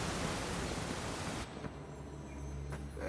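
A waterfall in the fantasy video game Avowed, a loud, dense rushing roar that drops to a quieter, steady wash midway through.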